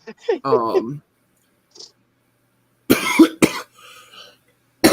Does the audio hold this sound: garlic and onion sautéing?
no